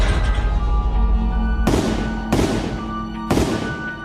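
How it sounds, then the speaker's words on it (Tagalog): Three sharp gunshots fired at aswang creatures at a door, spaced about a second apart, each a loud broadband crack with a short decaying tail over a steady low background. "Narinig ko ang pagputok ninyo ng baril."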